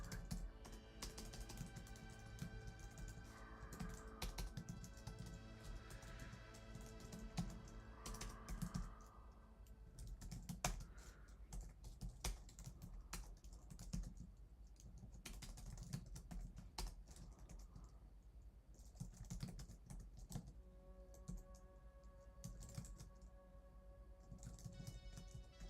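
Fingers tap away on a computer keyboard in an uneven stream of light clicks, close and quiet over a low background hum, with short pauses between bursts.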